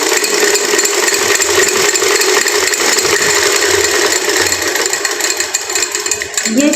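A hand-operated sewing machine runs steadily up close, giving a loud, continuous mechanical whir with a fine rattling texture.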